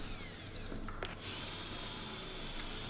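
A power drill bores dowel recesses into a wooden tabletop, a steady loud whirring drone with a brief pitch shift and rattle partway through.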